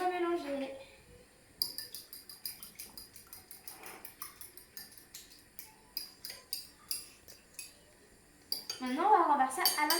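Whisk or fork clinking steadily against a bowl while beating an egg with water, a rapid rhythmic clatter of metal on dish, close and moderately loud, with a voice speaking at the start and end.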